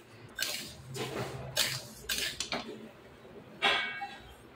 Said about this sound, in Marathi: आता आपण चना डाळ भाजून घेत आहे